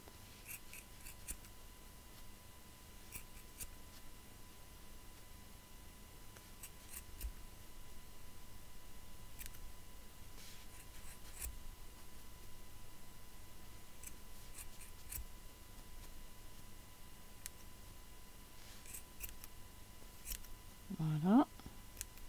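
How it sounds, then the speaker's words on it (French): Scissors trim the yarn strands of a pom-pom. Quiet, sparse snips recur through the clip, with a louder cut near the end. A person talks over it. "on n'hésite pas à écarter les brins pour aller couper ceux qui sont plus petits à l'intérieur."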